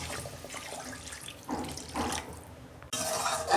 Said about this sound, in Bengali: পরিমাণ মতো জল দিচ্ছি।